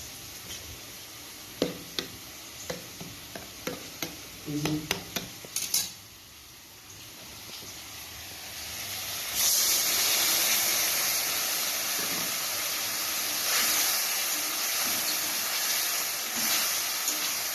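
A paste of ground cumin, chilli powder and turmeric mixed with water frying in a pan for a fish and potato curry, first a run of sharp spoon-on-pan clinks, then a soft steady sizzle that swells and holds.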